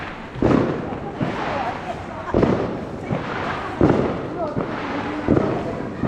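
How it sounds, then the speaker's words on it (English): Repeated loud firework bangs and crackling pops go off every second or so outdoors at a crowded Lantern Festival parade in a town square in Putian, Fujian, China, mixed with crowd chatter and voices. "everyone light up the fireworks and the fire"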